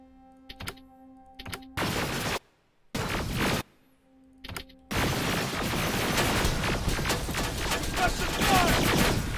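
Gunfire in the PC shooter Terminator: Resistance: scattered sharp shots and short bursts give way to sustained, loud automatic fire that hammers on rapidly, with clanking and thuds mixed in.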